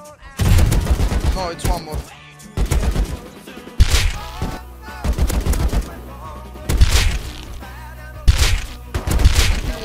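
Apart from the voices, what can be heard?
AK rifle gunfire in the video game Rust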